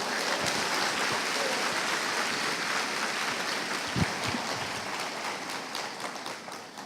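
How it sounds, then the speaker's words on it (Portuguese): A church congregation applauds during a worship service, a continuous wash of clapping that stays fairly even and slowly fades toward the end. "Aplauda Jesus."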